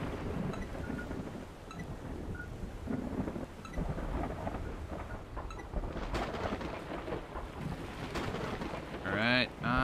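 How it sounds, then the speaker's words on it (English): Thunderstorm in the Ocean Oil Tycoon video game, with steady rumbling thunder and wind-driven rain washing over everything, and a brief voice near the end. "I can't order anything now because of the storm."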